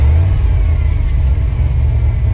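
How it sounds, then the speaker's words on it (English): A car engine idles with its exhaust pipes cut out, tuned with MicroSquirt engine management, giving a loud, steady, deep droning rumble heard up close from inside the car. "I got it idling pretty good here with the micro squirt"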